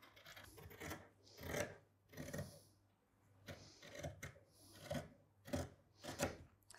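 Scissors cut through linen fabric pieces for a blouse in a series of about seven quiet, rhythmic crunching snips spaced roughly a second apart, close and without talk.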